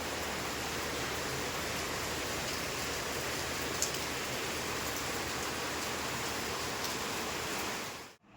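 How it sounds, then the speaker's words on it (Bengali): Heavy rain pours steadily, a dense continuous hiss of water falling outside that lasts throughout before cutting off abruptly at the end. "আর প্রচণ্ড বৃষ্টি বাইরে, প্রচণ্ড মানে প্রচণ্ড বৃষ্টি।"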